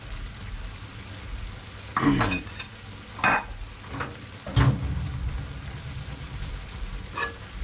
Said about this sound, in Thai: กระทะเขาเดือดได้ทีแล้ว